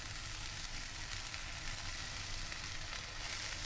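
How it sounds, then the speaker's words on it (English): A red wine sauce for Bordelaise sizzles and bubbles steadily in a pan as its alcohol is set alight and burns off, a constant dense hiss with no voices. "you can try to get a lighter and burn the alcohol"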